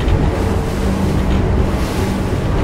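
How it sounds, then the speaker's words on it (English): Choppy wind-driven waves in the Bay of Palma, Mallorca, wash steadily beneath an Axopar 37 XC boat, making a continuous broadband rush mixed with wind buffeting on the microphone and a faint engine hum, with no talk. "wind waves, which you always have here in the Bay of Palma"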